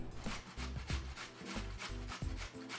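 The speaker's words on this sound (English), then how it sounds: "you wanna get your grater and just grate" Carrots scraped back and forth on a hand grater in a home kitchen, a quiet, steady rhythm of rasping strokes repeating about every half second.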